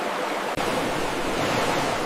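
Steady ocean surf washing in a continuous broadband roar, loud and close, with a momentary dip just after the half-second mark and no voices.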